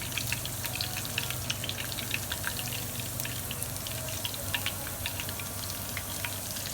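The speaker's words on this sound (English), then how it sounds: "So you'll see when you put them in, they start to bubble." Pieces of food fry in hot oil while cooking for a spiced roasted butternut squash soup, giving a steady bubbling sizzle with many small crackling pops, close and continuous with no talking.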